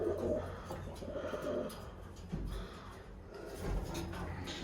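Birmingham Roller pigeons coo softly in their nest boxes inside a loft, with low, repeated murmuring calls at moderate distance and a faint knock or two.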